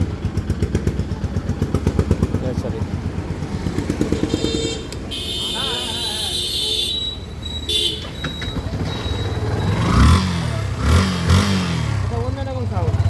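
Used Yamaha FZS V2 motorcycle engine running close by, with a steady rhythmic chugging for several seconds before a voice takes over and the engine continues faintly beneath the talk.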